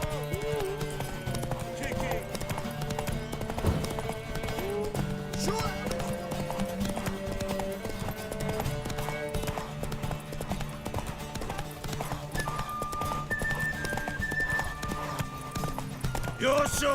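Hooves clip-clop steadily from a horse in The Witcher 3, running as a continuous rhythmic patter beneath background music and ongoing character dialogue.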